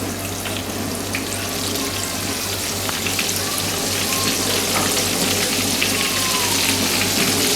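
Floured jumbo shrimp frying in hot oil, a dense continuous sizzle and crackle with a steady low hum beneath, no talking.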